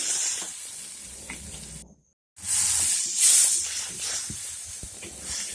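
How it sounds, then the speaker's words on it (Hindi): Tomato paste fries in a pan with a steady close sizzle and hiss, which stops for a moment and then comes back, spattering and crackling on its own. "टमाटर को भी इसी में अच्छी तरीके से फ्राई कर लेते हैं।"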